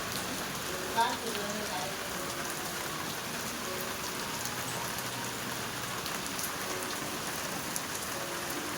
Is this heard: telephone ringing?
no